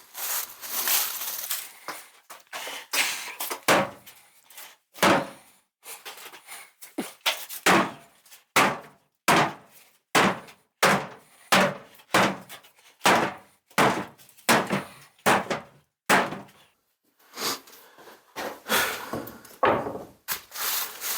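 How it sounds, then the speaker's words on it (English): A sledgehammer pounds wooden boards during demolition, delivering a long series of sharp, heavy thuds at a fairly even rhythm, close and loud. "I'm gonna go sledgehammer for a second, then I'll cut the other board."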